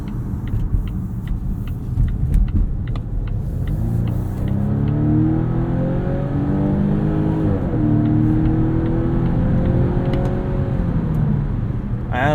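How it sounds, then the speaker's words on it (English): A 2023 Volvo V60 Cross Country B5, a 2-liter turbo mild hybrid, accelerates hard up an entrance ramp, its engine note climbing steadily through the gears from inside the cabin with a brief shift dip midway. "This 2-liter turbo is pretty quiet. We'll open it up right here on this entrance ramp."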